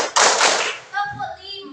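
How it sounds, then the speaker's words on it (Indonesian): Children in a classroom clap together in a short, loud, close burst of hand claps, followed by a voice speaking. "Kalau tepuk 4 seperti ini, tepuk 4."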